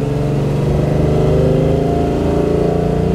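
A 1957 Mercedes 300 SL Roadster's engine hums steadily from inside the car while driving, a close, even droning note with smooth harmonic layers and a slight rise in pitch toward the end.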